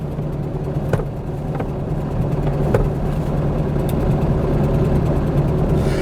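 A Porsche 911 with a racing 901/902 transmission idles at a slightly high 1,200 RPM, a steady low engine rumble that holds even and continuous throughout, with a few faint clicks on top.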